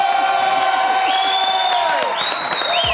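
A studio audience claps and cheers loudly, with whoops rising over steady applause throughout.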